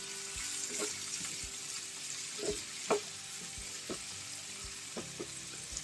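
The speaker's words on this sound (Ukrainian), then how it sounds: "І так, воно смажиться ось так." Soft, steady sizzling of food frying in a pan for a shrimp salad, with occasional light clinks and stirring sounds, quiet and close.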